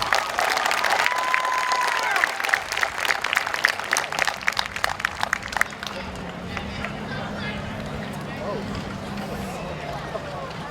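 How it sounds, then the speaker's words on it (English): Crowd at an outdoor high school graduation ceremony applauding the graduates, dense clapping for several seconds that thins out, with faint speech and crowd murmur underneath. "take a look at the group here today and give them a round of applause."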